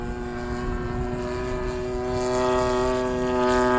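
A Seagull Models Shock Cub RC airplane flies overhead with a steady, buzzing propeller drone. The engine holds an even pitch that grows slightly louder and brighter toward the end, with no voices.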